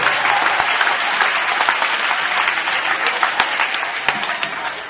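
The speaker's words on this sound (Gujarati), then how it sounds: "જોરદાર તાળીઓથી બિરદાવીએ." Sustained applause from an audience at a Kargil Vijay Diwas martyrs' tribute event at Maharaja Campus, Utran, Surat, steady clapping throughout with scattered sharper claps, no talk.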